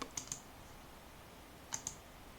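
Mouse clicks on a computer while installing the MWEB app in Ledger Live: two quick pairs of crisp, close clicks about a second and a half apart, over quiet room tone.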